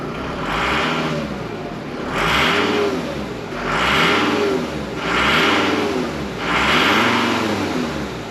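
A Mercedes W210 E290 with the OM602 diesel engine revs hard four times in a steady rhythm. The engine is close and loud, rising and falling with each throttle blip, and it has a fault that makes it smoke white.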